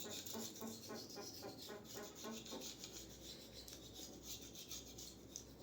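A straight razor is honed on a 3k whetstone with steady rhythmic rasping strokes, close and quiet, grainy scrapes repeating back and forth with no talking.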